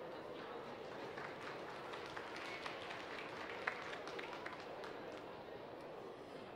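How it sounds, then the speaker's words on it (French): A cat show audience applauds the winning Abyssinian cat, steady crowd clapping heard at a moderate distance for several seconds, with faint voices mixed in. "Vous pouvez l'applaudir"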